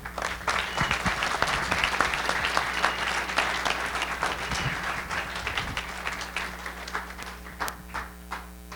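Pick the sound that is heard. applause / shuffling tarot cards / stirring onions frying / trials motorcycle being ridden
applause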